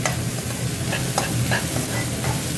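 Curry leaves and paste sauté in a hot pan, giving a close, continuous sizzle with light scraping from stirring and small crackles throughout, no voices.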